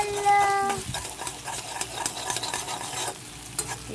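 An egg fries and is stirred in a pan while cooking tarka, giving a steady close sizzle with scraping stir strokes throughout, preceded by a brief tonal sound at the start.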